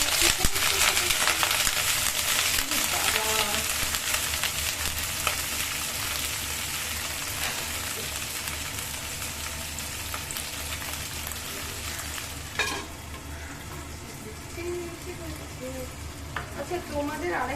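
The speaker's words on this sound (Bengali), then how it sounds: "তেলটা একটু গরম হোক। এই কালো জিরে দিয়ে দিলাম" Black cumin seeds fry in hot oil, making a loud, dense crackling sizzle that eases off slightly over time, with occasional stirring clinks near the end.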